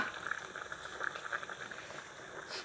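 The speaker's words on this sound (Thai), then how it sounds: "เดือดแล้ว" Chicken wing soup with young tamarind leaves boils in a pot, a soft, continuous bubbling and gurgling heard close and fairly quiet, with no talk.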